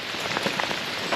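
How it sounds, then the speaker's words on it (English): Rain falls steadily on a campsite near a tent, a soft continuous patter with scattered distinct drops, close and fairly quiet, no voices. "it is definitely raining"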